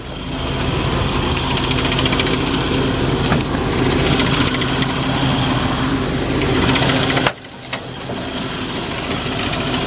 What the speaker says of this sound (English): That's just the fan hitting the shroud here.